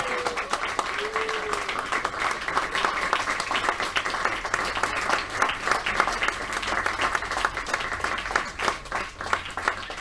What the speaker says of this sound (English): let's give them all a really big round of applause